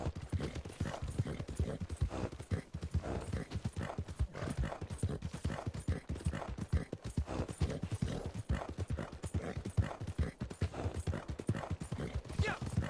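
Steady, rhythmic clip-clop of video game horse hooves at a brisk gait, loud and close, continuing throughout with faint background sound.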